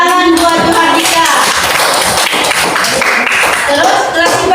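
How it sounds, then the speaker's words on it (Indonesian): A classroom of students claps for a classmate after a descriptive-text presentation, uneven clapping mixed with voices and chatter throughout. "tepuk tangan buat Yuhardika."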